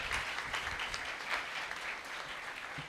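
A crowd at a Catholic church ceremony applauds steadily and fairly loudly, a dense wash of clapping hands that continues without pause.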